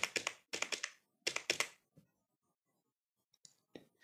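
A computer keyboard being typed on up close in quick bursts of crisp key taps, three short clusters followed by a pause and a few scattered final presses, with no talking.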